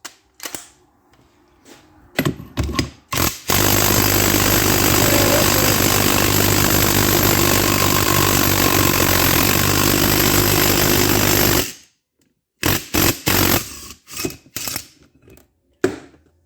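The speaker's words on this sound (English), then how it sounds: "Let's see if I can get this side out with this ball joint press." A ball joint press pushes the driveline yoke out of a 2003 Dodge RAM 3500, with about eight seconds of loud, continuous rattling hammering, framed by short mechanical clanks before and after.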